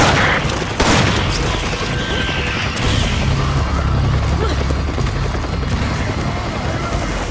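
Gunfire in Resident Evil 5's Mercenaries mode, with a burst of sharp shots followed by continuous dense game action, loud and steady, with sounds layered throughout.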